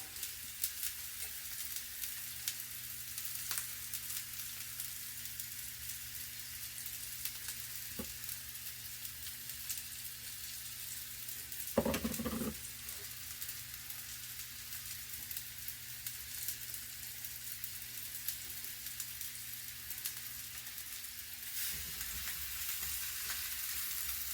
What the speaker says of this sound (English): Nice sizzle to it.